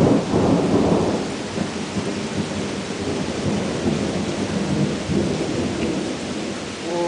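A summer thunderstorm in Salamanca, New York, with heavy rain hissing steadily while thunder rolls and rumbles, loudest at the opening and swelling again later.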